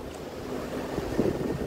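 Wind rushes and buffets a microphone outdoors in Taiwan, a low steady roar that swells slightly toward the end.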